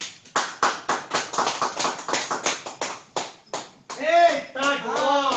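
Rhythmic hand clapping at a church worship gathering praising the Lord, a steady run of sharp close claps that breaks off, followed by a voice shouting over the room.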